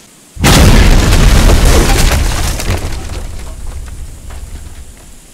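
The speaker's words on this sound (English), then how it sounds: "Oh, there was a gas thing there, wasn't there? Oh, that's what's been exploding." A gas canister blows up in a Cooking Simulator kitchen, one loud sudden boom that hits hard and then rumbles and crackles away over several seconds, with no talking.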